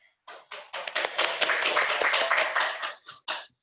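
A small group of people clapping at a school orientation opening, a few close scattered claps building into a brief burst of applause and then tapering off with isolated claps.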